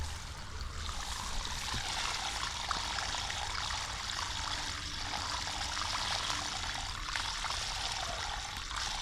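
Well water runs through a siphon pipe with no pump, pouring in a steady, moderately loud stream that flows continuously with a faint low rumble underneath.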